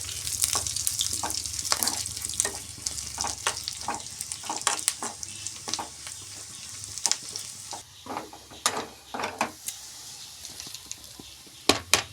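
Shallots and curry leaves fry in hot oil in a pan, a steady crackling sizzle with bursts of popping and the scrape of stirring.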